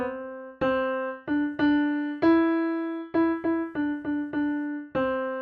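A piano plays a pop-progression melody alone: about nine clear single notes with sharp attacks and ringing decays, in an uneven rhythm at moderate volume.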